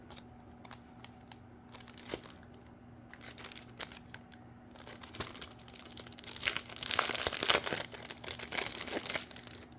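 Foam stickers come off a sticker sheet for a scrapbook layout with close, soft crinkling and peeling, scattered light crackles at first that grow into denser, louder rustling near the end.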